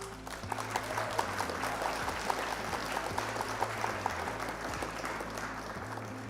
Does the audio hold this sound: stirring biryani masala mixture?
no